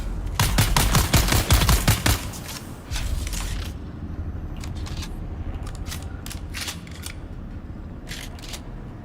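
Rapid bursts of automatic gunfire from the Dune video game set on the sands of Arrakis, loud and dense for about two seconds, then scattered single shots and short clatters over a steady background rumble.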